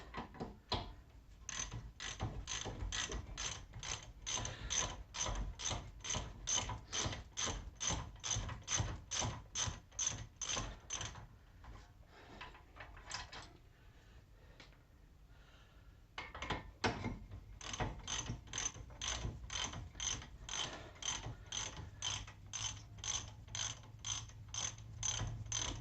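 A ratchet wrench loosens the bracket bolts on a 2003 Dodge Ram 1500 4x4 during a wheel bearing replacement. Steady, fast clicking runs in long close bursts, with a short quieter pause midway and no talk.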